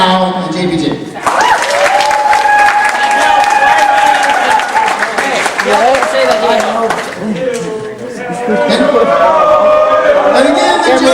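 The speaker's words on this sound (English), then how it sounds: "can I get another applause for Levi, Kyle, and JBJ?" An audience at a Toledo High School Mr. T pageant claps and cheers, a loud sustained roar of applause with shouts and whoops rising over it, dipping briefly before swelling again.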